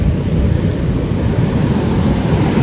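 Rough Indian Ocean surf breaks on an Indonesian beach as a continuous, loud roar of churning waves mixed with wind buffeting, with no voices.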